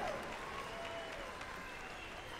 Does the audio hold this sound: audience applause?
yes